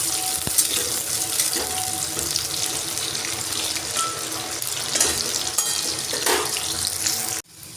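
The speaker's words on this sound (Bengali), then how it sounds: "আমি কচুগুলো ভালো করে ভেজে নেব।" Taro pieces fry in hot oil in a wok, giving a steady, fairly loud bubbling hiss with scattered crackles that continues without talk and then cuts off abruptly near the end.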